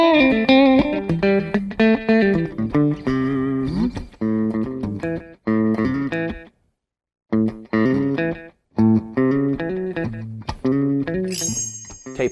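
Electric guitar played through an echo delay on a Line 6 Pod Go, distorted picked phrases with chords and notes that trail off, a short silent gap, then more phrases and a bright high squeal near the end.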